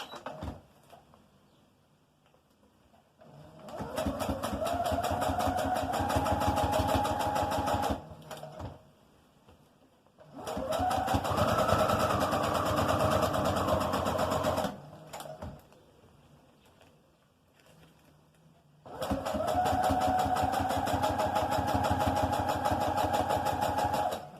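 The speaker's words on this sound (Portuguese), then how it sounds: "vou lá pra máquina. E vou passar uma costura." Sewing machine stitching a fabric and plastic baby document holder, running in three sustained bursts of steady rapid whirring with quiet pauses between, close and fairly loud with no talk.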